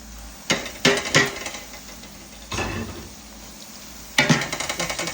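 Garlic ginger paste is stirred into browning onions in a pot, heard as a few sharp scraping clinks of a metal spoon against the pot, separated by pauses with a soft sizzle beneath, close and fairly quiet.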